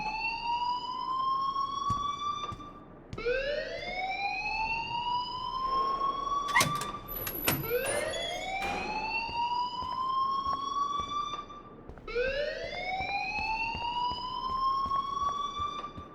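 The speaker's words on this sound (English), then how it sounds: "please turn off that alarm since that's your job" An alarm rings in the video game Life is Strange Remastered: loud, repeating rising electronic whoops like a siren, each sweep climbing in pitch, with a brief squeal in the middle, steady and unbroken by voices.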